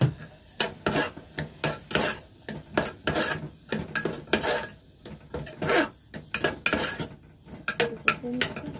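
Tomatoes are stirred and sautéed in a pan, a metal spoon scraping and clinking against the cookware in uneven rhythmic strokes over a faint sizzle.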